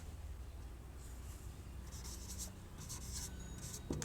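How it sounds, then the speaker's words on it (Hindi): Pen writing on paper while a Class 10 trigonometry proof is worked out, heard as soft scratching strokes over a steady background hiss, with no talk. "तो लिखते हैं"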